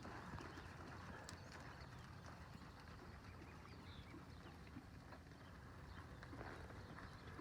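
Steady clip-clop of horse hooves walking on ground while moving cattle, continuous and moderately loud against a broad outdoor background noise.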